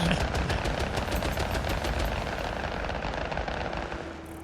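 Dense, continuous volley of fireworks bursting in the video game Satisfactory, a rapid crackling barrage of overlapping pops and booms that stays loud and steady throughout before easing slightly at the end.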